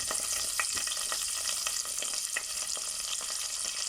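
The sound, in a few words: cumin seeds and curry leaves frying in margarine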